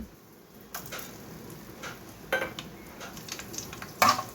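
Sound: tempering spices sizzling in oil

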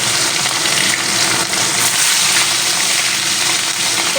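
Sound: catla fish frying in mustard oil

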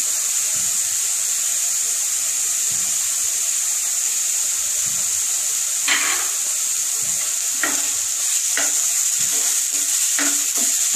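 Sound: grated coconut frying in a pan

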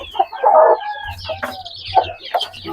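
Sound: chickens and chicks clucking

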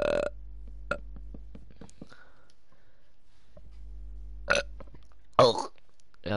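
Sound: burp after drinking Pepsi Max Cherry

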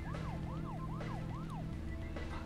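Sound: vehicle siren, from a video game

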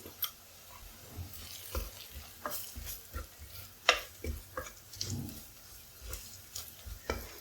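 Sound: stirring spice powders frying in pan for soybean curry

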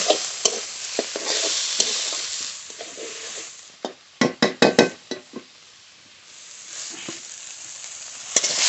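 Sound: stirring and frying water lily stems in a pan

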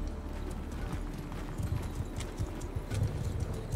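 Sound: horses galloping hooves in video game Mount & Blade Bannerlord

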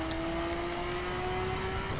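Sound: Nissan Skyline car engine in The Crew video game

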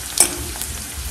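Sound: onion frying in a pan

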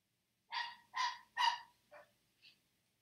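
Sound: dogs barking

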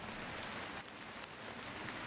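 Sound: pouring rain

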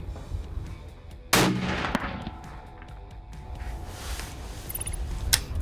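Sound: rifle shot with taped barrel

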